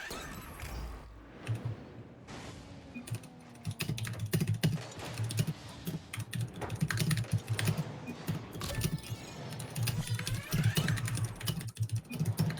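Rapid keyboard typing clatters on continuously, dense clicks with a low background hum, close and fairly loud throughout a gaming livestream setup.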